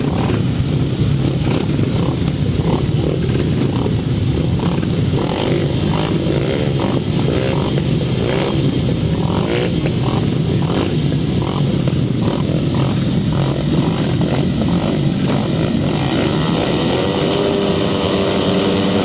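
350cc solo grasstrack motorcycles racing at a meeting, a continuous loud roar of several engines revving and rising and falling in pitch as the bikes pass close by.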